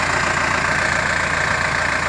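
A tractor on radial tires, its engine idling in a steady, loud, continuous drone with no talk over it.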